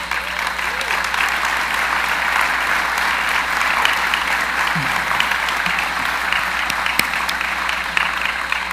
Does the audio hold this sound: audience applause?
yes